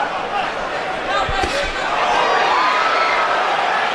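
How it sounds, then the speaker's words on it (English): A boxing crowd at the Canelo Alvarez vs Amir Khan fight lets out a swelling ooh and ah as Canelo lands a left, a dense arena roar that carries steadily under a commentator's voice. "Crowd oohs and ahs as again Canelo lands the left."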